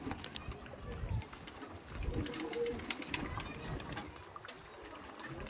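Pigeons bathing give soft cooing calls mixed with splashing and fluttering, fairly close and continuous, with a person talking over them.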